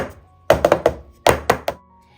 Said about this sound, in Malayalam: ഇനി അകത്ത് എയറൊക്കെ ഉണ്ടെങ്കിൽ പോയി കിട്ടുന്നതിന് വേണ്ടിയിട്ട് ഒന്ന് ചെറുതായിട്ടൊന്ന് ടാപ്പ് ചെയ്തും കൂടി കൊടുക്കാം.